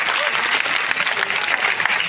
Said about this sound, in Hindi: महाराज साहब का जोरदार तालियों से स्वागत करें